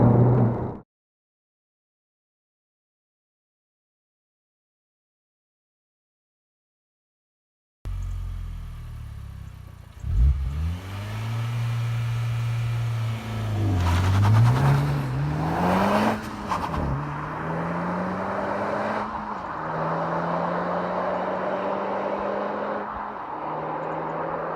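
Honda Civic Type R FK8 with a mechanical differential accelerating hard on a road, engine note rising through several gear changes after a brief silence, loud and close with steady road and wind roar beneath.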